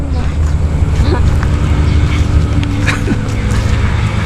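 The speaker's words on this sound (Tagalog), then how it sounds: "Dami sasakyan na naririnig, dumadaan." Steady road traffic rumbles past a campsite among trees in Silang, Cavite, a continuous low drone with occasional louder swells as vehicles go by, wind noise throughout and faint voices nearby.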